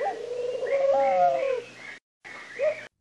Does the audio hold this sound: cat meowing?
no